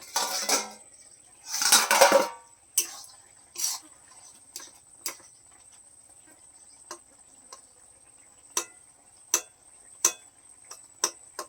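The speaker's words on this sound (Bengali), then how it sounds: "ওই কচুটা ঘেটে দিই তাই আমি একটু ঘেটে দিচ্ছি" Taro and spinach ghonto being stirred and mashed in a pot: a couple of loud scraping bursts up front, then sparse sharp clinks of a utensil against the pot, close and with no one speaking.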